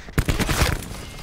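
Gunfire in the video game Black Ops 4, a short burst of several rapid shots fired up close, loud and fading out within about a second.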